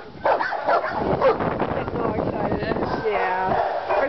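Young pit bull barking at an animal shelter, a few short yips and woofs mixed among people talking nearby in a busy kennel setting.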